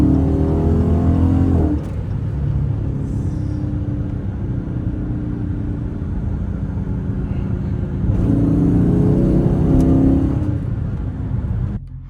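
A Chrysler with a 392 engine drives in traffic, its deep engine rumble and road noise steady and loud inside the cabin, swelling with acceleration at the start and again near the end.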